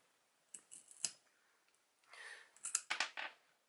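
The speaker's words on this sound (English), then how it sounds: "we're going to cut nice and straight" Pliers snip through a 5mm bike brake hose near a brass fitting, producing several sharp crisp clicks and crunches in quick succession, close and fairly quiet, with no talking.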